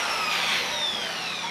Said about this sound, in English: I got the drill gun